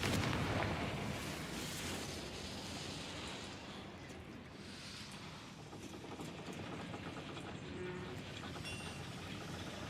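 A Confringo blasting-spell explosion in the Hogwarts Legacy video game booms at the start, then a rumbling roar rolls on steadily at a fairly low level, with no one speaking over it.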